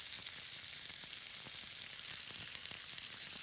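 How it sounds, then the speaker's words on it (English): Butter melts with spices in a hot pan, giving a steady, dense sizzle and crackle that continues without a break, with faint occasional stirring clinks. "I just want to melt that butter"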